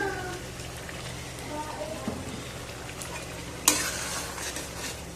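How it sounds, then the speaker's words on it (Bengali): Egg curry is stirred in a pan after mustard oil is added, giving a soft sizzle and scraping stir strokes. It stays fairly quiet, a brief voice murmurs at the start, and one sharp clink comes near the end. "উপর থেকে একটু সরিষার তেল দিয়ে আমি লাভিয়ে নেবো"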